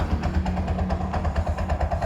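A Bajaj auto rickshaw's 205cc engine, which has a pick-up problem and a freshly welded silencer, idles with a steady, throbbing low rumble and regular close-up pulses throughout.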